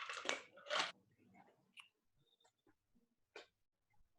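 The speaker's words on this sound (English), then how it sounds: "I'm chewing ice." Ice being chewed close to the microphone, a few loud crunches at the start followed by softer scattered cracks and munching in a quiet room.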